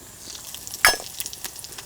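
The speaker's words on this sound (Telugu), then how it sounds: "ఇరవై ముప్పై సెకండ్ల పాటు ఈ జీలకర్ర వేయించుకొని" Cumin seeds fry in hot oil with a soft sizzle, broken by one sharp spattering crackle and a few faint pops after it, close and brief with no speech.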